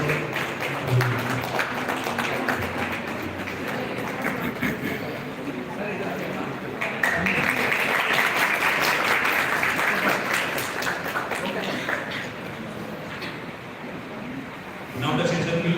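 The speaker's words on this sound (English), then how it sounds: "And a round of applause." Sustained audience applause at an NCSTIR 2026 conference session as a speaker is welcomed, a steady wash of many hands that swells midway and runs throughout, with brief talk near the end.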